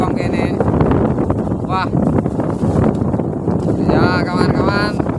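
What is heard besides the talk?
strong southwest wind blowing at sea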